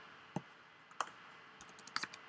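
A computer keyboard is tapped during work in an R console, with a few isolated faint keystrokes followed by a quick cluster of clicks near the end, soft and close in a quiet room.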